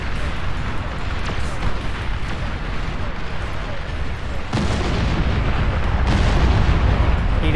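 Heavy, continuous rumbling barrages of artillery fire and explosions in the Beyond All Reason real-time strategy game, loud and dense throughout, swelling further in the latter half.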